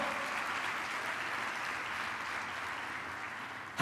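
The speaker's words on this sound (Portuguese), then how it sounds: "dá um aplauso para o Espírito Santo" A church congregation claps together in sustained, even applause that fills the room at a moderate level throughout, with no voices on top.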